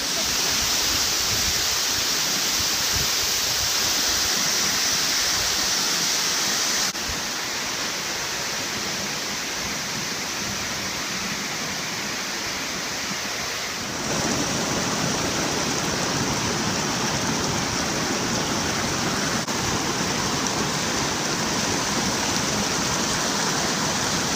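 A waterfall pours in a constant broad rushing hiss, loud and unbroken, with slight shifts in tone as the position changes and no speech.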